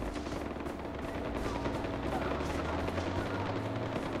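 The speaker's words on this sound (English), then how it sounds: "Some gunfire up here though." Rapid bursts of automatic gunfire from a firefight between rebels in the video game Far Cry 4, a steady crackle of shots layered over a continuous mix of combat noise with no pauses.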